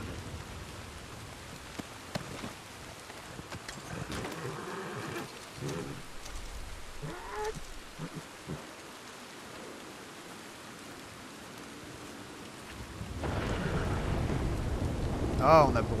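Rain pattering steadily during a thunderstorm in Red Dead Redemption 2, with scattered thumps and clatter early on, then the downpour swells louder near the end; no talking.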